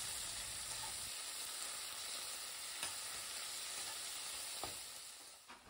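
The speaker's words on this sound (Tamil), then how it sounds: "ஒரு பெரிய தக்காளி பொடியாக நறுக்குனது அதையும் போட்டு நல்லா வதக்கி" Finely chopped large tomato hits a pan of onions and is stirred while frying, giving a steady close sizzle and hiss with a few scrapes and clicks, and no talking.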